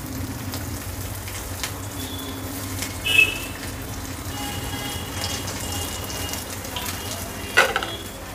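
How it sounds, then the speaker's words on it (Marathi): Marinated potatoes frying in hot oil over medium heat, a continuous crackling sizzle with a couple of brief clinks from the pan and no voices. "तर त्याच्यामध्ये आता हे मॅरिनेट केलेले बटाटे सोडूया।"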